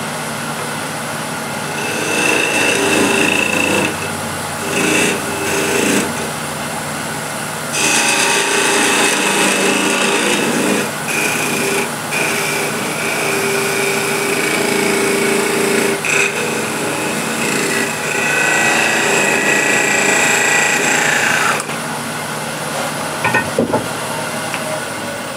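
A wood lathe spins a piece of timber while a tool is held to it, a steady close high-pitched whirring and scraping with brief gaps, closing as the piece is parted off.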